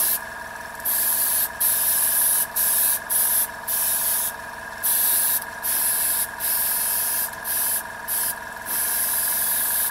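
Rattle-can spray paint applied in repeated short bursts while painting camo on an airsoft gun, each loud hissing spray lasting about a second with brief gaps between, close to the listener.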